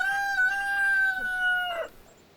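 A rooster lets out a single long, loud crow close by, a sustained steady call that breaks off abruptly near the end, with no talk over it.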